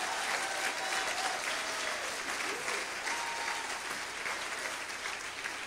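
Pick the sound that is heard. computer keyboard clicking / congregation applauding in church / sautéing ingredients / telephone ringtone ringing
congregation applauding in church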